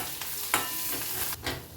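Chopped cashews and curry leaves sizzling and being stirred in a hot pan, with a steady fry hiss and a few scraping strokes.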